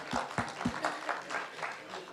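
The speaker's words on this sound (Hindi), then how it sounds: "क्या बात है, तालियां।" Brief burst of audience applause at a televised Indian conference event, a few loud claps at the start trailing into a softer, uneven patter, with voices faintly mixed in.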